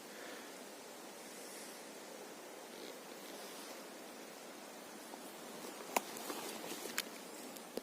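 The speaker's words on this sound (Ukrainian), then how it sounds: "Ну вітряно." Soft, steady wind rushes past outdoors on a forest walk near Stepanivka, Khmelnytskyi region, Ukraine, fairly faint, with a few sharp rustling clicks near the end.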